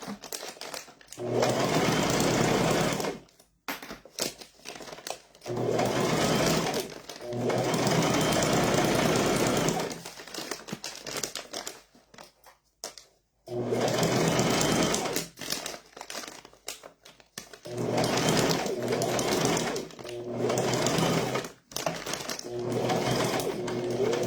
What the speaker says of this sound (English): I'm going to just do a little back stitch and then I'm going to sew all the way around till I get to the other side of it.